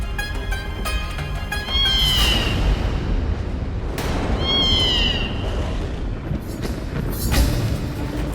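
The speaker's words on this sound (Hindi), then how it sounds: "काली बिल्ली," A black cat meows in two drawn-out calls over a steady background hum in a dramatic scene, the calls close and clear with a short gap between them.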